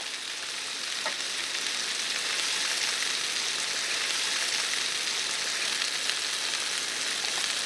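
Turkey cutlets browning in a hot pan, a steady close sizzle and fry that holds evenly throughout, with a faint clink near the start and no talking.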